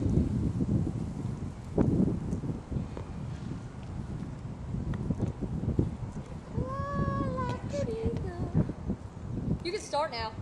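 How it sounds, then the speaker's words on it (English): Steady outdoor wind buffeting the microphone on a bitterly cold, sunny day at a skate spot, a continuous low rumble throughout with a voice and some brief tonal sounds near the end. "The wind makes me mess up."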